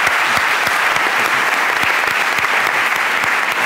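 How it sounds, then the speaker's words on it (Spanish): Congress audience applauds the panel at a mystery and history conference, loud continuous clapping with individual claps standing out, alone with no talk. "fuerte aplauso para la mesa"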